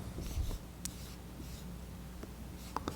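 Writing on a board during a lesson on a silicon diode circuit: soft scratchy marker strokes and a few light taps come in short bursts, quiet and close, with no talking.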